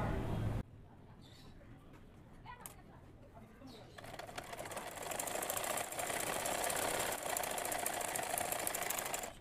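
A home sewing machine stitches the side seam of a kameez, its steady mechanical whirr running continuously and fairly loud after a brief quieter start with small handling sounds.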